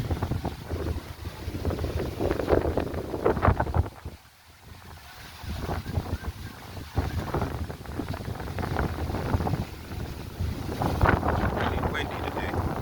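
Strong wind gusting outdoors, roaring steadily against the microphone and cutting out briefly in one short lull before rising again.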